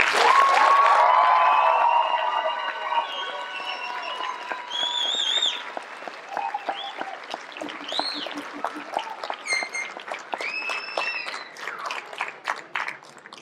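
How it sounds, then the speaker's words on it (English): Audience applause at a high school commencement ceremony, loud at first and then thinning out while whoops and cheers rise above the clapping before it trails away. "Let's give our graduates another round of applause."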